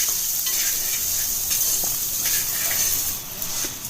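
Garlic, twenty dried red chillies and rock salt roast in a pan for Andhra-style gongura pachadi, giving a continuous close hiss and crackle with faint scrapes of a spoon, no voices.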